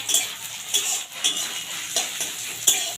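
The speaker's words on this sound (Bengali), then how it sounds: "এবারে দিয়ে দিচ্ছি রসুন কুচুনো রসুনটাকে একটু ভেজে নেবো" Chopped garlic fries in oil with dried chilli tempering for a spicy potato and okra stir-fry, a soft sizzle broken by periodic scrapes and clinks of a spatula against the pan.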